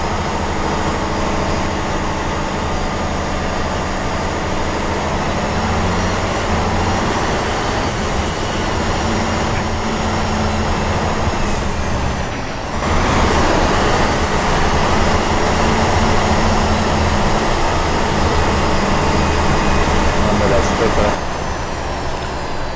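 A Tatra truck's engine heard from inside the cab in the Spintires video game, a loud continuous droning roar that surges briefly partway through, with people talking over it.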